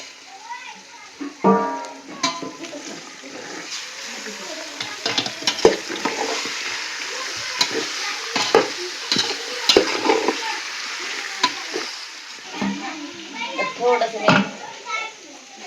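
Mutton being sautéed with turmeric in a pan for a village-style chicken curry, with stirring scrapes and a steady sizzle throughout, while children's voices and talk chatter nearby.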